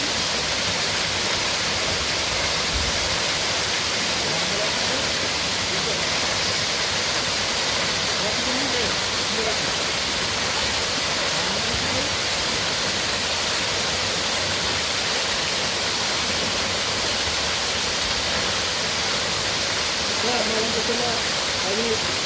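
Sarugudu waterfall near Narsipatnam running full with lots of water, a loud unbroken roar of rushing, crashing water that fills the whole stretch evenly, heard from close by.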